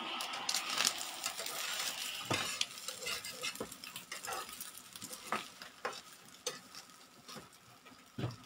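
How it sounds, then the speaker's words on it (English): A sunny side up egg fries in a pan with a steady sizzle, joined by scattered metallic clicks and scrapes of a utensil against the pan. "Sunny side up na pan."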